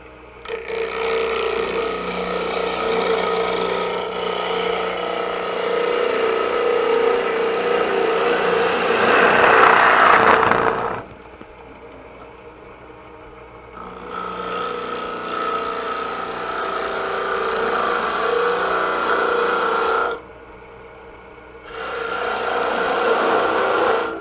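A drill bores a hole about 1.25 inches deep into a wooden bowl blank spinning on a woodturning lathe. It makes a loud, close, rough whirring grind that runs in long stretches, broken by two short pauses.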